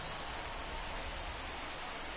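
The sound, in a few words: heavy rain falling at a ballpark in the video game MLB 24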